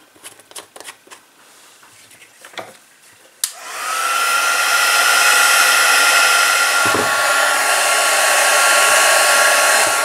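Light tapping and rustling, then a heat tool snaps on into a loud, steady blowing whir while melting embossing powder for pouring into moulds, with a brief knock partway through.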